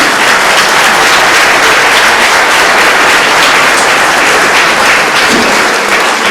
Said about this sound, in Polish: Na koniec poproszę Państwa o burzliwe oklaski dla naszego gościa